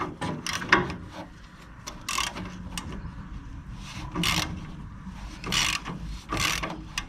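A hand wrench works bolts loose during a complete teardown of a Willys Jeep, giving repeated short metallic ratcheting and scraping bursts at irregular intervals, close and fairly loud, with no talking.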